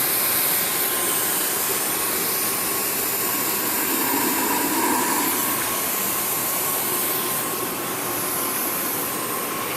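A 4th-axis rotary pipe plasma cutter roars with a steady, loud hissing rush as it cuts a rolling pipe, a faint thin whine riding on top, continuous and unbroken throughout.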